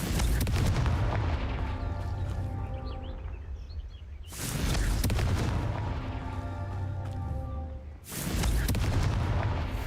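Confringo, the ranged fire spell in Hogwarts Legacy, goes off in loud explosive bursts, with sharp booms roughly every four seconds over a constant crackling, roaring fire bed.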